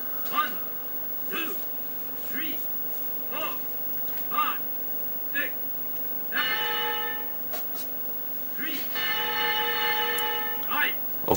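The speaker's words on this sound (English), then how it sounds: "Okay, he was saved by the bell." Two bursts of a boxing round bell from the video game Final Blow, rapid metallic ringing set among intermittent game sound effects and background tones, moderately loud.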